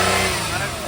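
A Maruti WagonR engine revs briefly as the accelerator is pressed, a close, steady mid-pitched engine drone lasting about a second.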